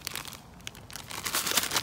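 Plastic packaging around a Cypress Lemon plant being torn and crinkled open by hand, a close run of irregular crackling rustles that grows busier toward the end, with no talking.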